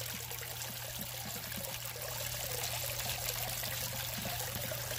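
Water streaming steadily through a gold sluice box during outdoor prospecting, a continuous close trickling and pouring flow with a low hum beneath and no talk.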